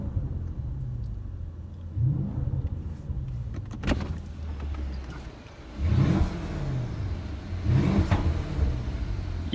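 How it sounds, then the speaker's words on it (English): The V8 of a 2017 Mercedes-Benz S500 coupe murmurs at a low, steady idle, heard from inside the cabin, with a few soft swells and whirring shifts in the rumble and no talk. "you hear a great sound of the murmuring V8 engine"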